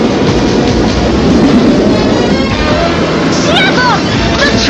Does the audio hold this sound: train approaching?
yes